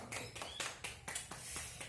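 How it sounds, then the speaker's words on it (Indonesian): Small classroom group clapping hands in applause, several sharp, quick claps in a steady rhythm, fairly quiet and close. "Tepuk tangan untuk kita semua."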